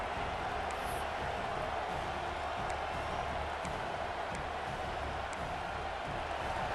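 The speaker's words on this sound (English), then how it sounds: "listen to this crowd noise. This stadium is vibrating" Stadium crowd noise from the American football video game Gridiron 2033 forms a dense, steady roar that holds at an even level, with faint whistle-like tones now and then and no voices over it.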